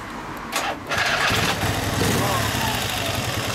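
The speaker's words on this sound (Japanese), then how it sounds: "はい、どうぞエンジンかけてもらえますか。" A 1968 Lilac R92 motorcycle cranked and fired up, a short burst of cranking followed by the engine catching and settling into a loud, steady, throbbing run close by, with people talking faintly around it.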